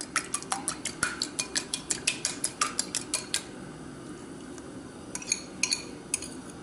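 An egg being lightly beaten with breadcrumbs, salt and parsley in a bowl for Brazilian fried rice balls, heard as a rapid run of close clinking utensil taps against the bowl that stops, then a few scattered taps return.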